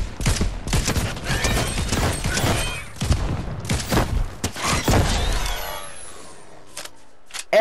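Explosive weapon shots in Fortnite creative mode, a string of loud close blasts and thuds crowding the first five seconds, then fading to a quieter tail with scattered debris-like crackles and a final hit.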